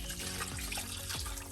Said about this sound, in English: I have 8 cups of water. I'm just gonna pour this over my meat and my fish.